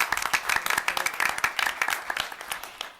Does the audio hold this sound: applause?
yes